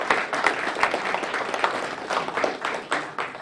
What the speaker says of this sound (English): another big round of applause for our 3 young men here